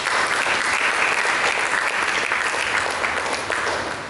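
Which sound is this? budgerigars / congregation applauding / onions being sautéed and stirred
congregation applauding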